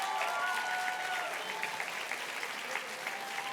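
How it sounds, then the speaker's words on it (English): A ceremony audience applauds parents and guardians at a dual enrollment recognition ceremony, a continuous wash of clapping lasting several seconds, with a faint whistle-like tone early on. "you better give them a big round of applause"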